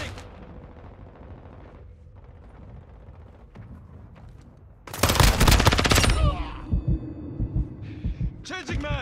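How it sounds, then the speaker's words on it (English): Mortar strike and gunfire in Call of Duty MWII multiplayer: a sudden loud burst of explosions and rapid firing erupts after quieter game ambience, followed by scattered shots and impacts. "Friendly mortar strike on the way."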